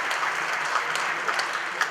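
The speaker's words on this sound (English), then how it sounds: "Let's give them all a big round of applause" Audience at a live entrepreneur pitch show in 2023 applauds, a dense, even wash of many hands clapping from a moderately distant crowd, heard alone.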